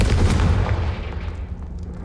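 A Confringo fire spell blast in Hogwarts Legacy, a loud booming burst that hits at once and then rumbles and fades away over about two seconds.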